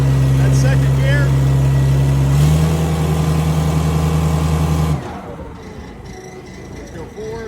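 An FD80 vehicle's engine running steadily while reversing, a loud low drone with a hum that rises in pitch and then drops away as the engine settles, with talk over it.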